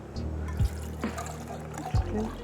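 Chicken stock pours and trickles into a saucepan in short splashes, close and fairly quiet, with a few soft drips between pours.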